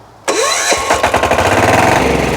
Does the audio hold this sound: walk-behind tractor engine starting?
yes